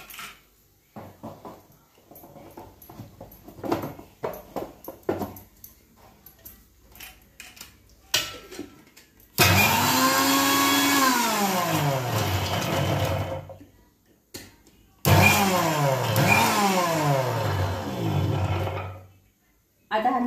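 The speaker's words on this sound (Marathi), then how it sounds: "आता आपल्याला हा लसण बारीक करून घ्यायचा आहे मोठ्या भांड्यामध्ये." Garlic is ground in the large jar of a kitchen mixer grinder, two loud whirring bursts of about four to five seconds each whose motor pitch rises and falls, after scattered quiet clicks and handling noises.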